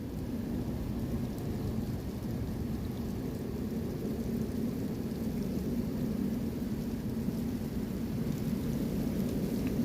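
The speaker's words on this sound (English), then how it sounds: "Crazy wind and snow tonight, as you can see." Strong wind roars steadily during a nighttime snowstorm, a constant low rumbling buffeting that fills the background at moderate level without pause.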